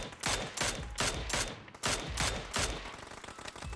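Gunshots tap-fired in PUBG land as sharp, loud single reports at a steady, regular pace, about six in under four seconds, each leaving a short ringing tail.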